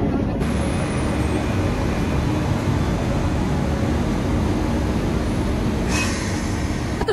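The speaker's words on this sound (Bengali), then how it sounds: "একসাথে দুটো ট্রেনের ইঞ্জিন ঢুকছে দেখুন" Two train locomotives roll into the platform at Howrah station together, a steady loud rumble of engines and wheels filling the whole stretch, with a brief squeal near the end.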